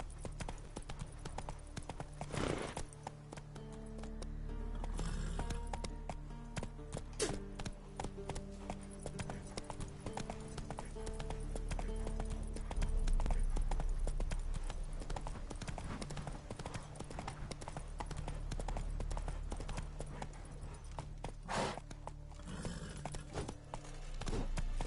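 Hooves of a horse in The Witcher 3: Wild Hunt clip-clop steadily at a gallop for the whole stretch, loud and close over a low in-game musical bed, with a brief voice near the start.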